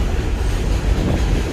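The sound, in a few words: subway train passing in the Bronx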